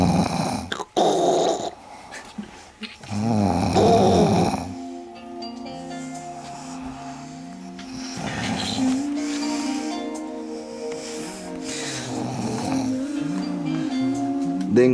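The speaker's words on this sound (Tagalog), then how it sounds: "Hilik to the max." A person snores loudly and at length, the deep rasping inhales recurring in a steady rhythm, while a voice speaks briefly near the start.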